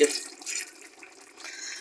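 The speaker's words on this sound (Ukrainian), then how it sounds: "І я додаю оцет." Vinegar pouring into a pot of homemade spicy-sweet tomato appetizer, a steady hissing liquid stream that starts loud and tapers slightly, with no talk.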